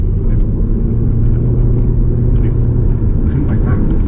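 A Haval H6 Hybrid SUV pulls hard under acceleration on a straight road, heard as a steady, loud low rumble of engine and road noise from inside the cabin, continuous throughout.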